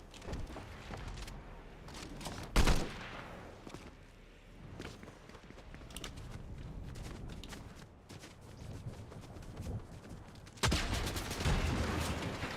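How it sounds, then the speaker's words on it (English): Shotgun and other gunfire in Fortnite, with a couple of sharp loud blasts standing out over a busy stream of game thuds and footsteps. "Why did I try to shoot my shotgun at him?"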